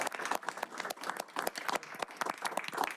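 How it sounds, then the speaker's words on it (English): Scattered applause at a county council meeting honouring someone's service, a small group clapping unevenly with separate, sharp claps, quiet and brief. "could we also offer a round of applause for her service and dedication to the county?"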